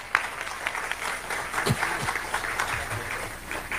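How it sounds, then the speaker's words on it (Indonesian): Audience applause at an Indonesian Islamic religious gathering honoring the installation of a new kiai, a steady patter of many hands clapping with a few sharper claps, moderately loud and continuous throughout. "Tepuk tangan."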